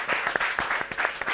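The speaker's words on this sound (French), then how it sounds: "Sous vos applaudissements." Studio audience applause on a French-language TV show as the host is introduced, dense sustained clapping with sharper individual claps standing out, loud and continuous with no talk over it.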